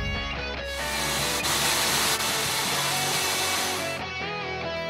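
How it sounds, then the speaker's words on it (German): A Parkside drill driver drives screws to anchor a new wall shelf to a wall, a loud steady motor whir of about three and a half seconds that starts and stops cleanly, with a musical backing underneath. "Als letzter Arbeitsschritt wird unser neues Wandregal mit dem Bohrschrauber und den passenden Schrauben an der Wand verankert"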